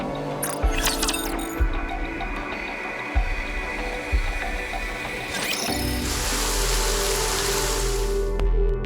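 Heavy rain in Goddess of Victory: Nikke: a few sharp mechanical clicks and ticks at first, then a steady, loud wash of pouring rain that settles in and fills the rest of the stretch.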